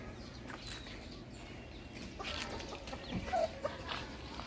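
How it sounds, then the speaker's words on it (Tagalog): Fighting roosters and chickens kept in the provinces cluck and call softly outdoors, with brief scattered clucks over quiet background noise. "Ito yung mga manok ng bayaw ko,"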